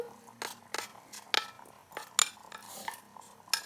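Garlic, onion and tomato being sautéed for ginisang munggo with pork, heard as a run of sharp, close utensil clinks and scrapes against a pan in irregular bursts, with a soft, low background between hits.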